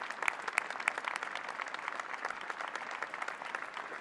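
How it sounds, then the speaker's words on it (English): Audience applause at the inauguration of a university president, a steady dense wash of many hands clapping throughout, with a few sharper claps standing out near the start. "Please join me in applauding these persons and groups."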